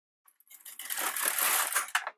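A knitting machine starts knitting after the cast-on, its carriage sweeping across in one dense rushing, rattling pass of about a second and a half, close and fairly loud, with no voices.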